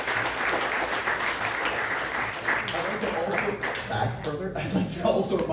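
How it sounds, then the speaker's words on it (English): Audience applause for the candidates at a county commissioner forum, a steady sustained round of clapping from a room of people, fairly loud, with some voices mixed in. "Let's give them another round of applause."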